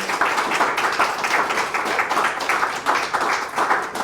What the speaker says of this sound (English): I'd like us to give the panel a round of applause for all their answers this afternoon